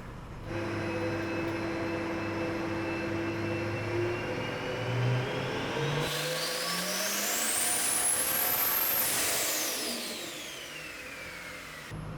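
A compound-turbo Duramax diesel engine revs on a dyno: a steady mechanical drone, then a loud turbo whine climbs sharply to a shrill peak and falls away as the revs drop.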